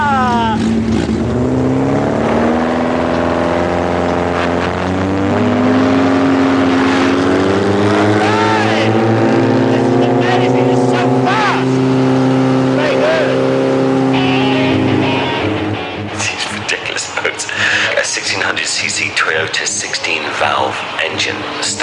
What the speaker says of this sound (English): engine stuck on the back of a very thin wooden boat